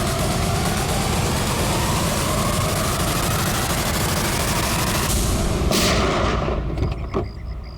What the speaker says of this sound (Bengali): নাও রিভলভার আর চালাও গুলি